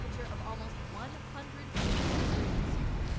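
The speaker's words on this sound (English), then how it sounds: "there's explosions going on" A voice speaks briefly, then a sudden loud explosive blast in Halo: Combat Evolved erupts into a sustained rumbling roar that fills the rest of the clip.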